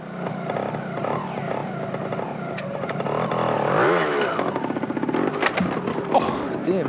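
A Fantic trials motorcycle ridden at the indoor trial at Paris Bercy in 1994: engine revving in bursts and blips, echoing in the arena, with a commentator talking over it.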